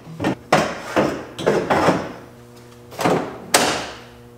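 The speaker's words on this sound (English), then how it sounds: "The vice grip's hitting the door over here." Locking vise grip pliers knock against the door of a BMW during a roll cage test fit, giving a series of sharp, close metallic-wooden thumps in an irregular rhythm.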